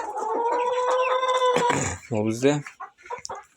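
Young roosters in a home poultry yard, kept with adult hens and chicks, give strained, rising crowing calls close by, two clear bursts with a short human voice between them.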